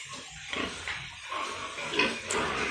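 A pregnant sow close to farrowing grunts and snorts repeatedly at close range, with low, rough calls coming in short uneven bursts.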